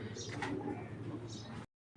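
Purebred giribaj pigeons, an old first-class breed kept as fancy birds, coo steadily and close by, a low soft rolling murmur running for most of the clip before cutting off.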